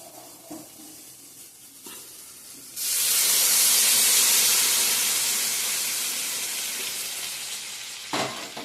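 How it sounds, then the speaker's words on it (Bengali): Hot water poured onto sizzling sautéed masala in a pan at home, a sudden loud steaming hiss that bursts in and stays strong, then slowly eases as the liquid settles, with light stirring clatter before and after. "মশলার সঙ্গে জল দিয়ে দেব দিয়ে দেবো এখন গরম জল অ্যাড করে দেবো"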